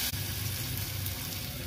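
Onion and tomato cook in a pan, giving a steady, close sizzle and crackle of frying that continues evenly with a brief dip near the start.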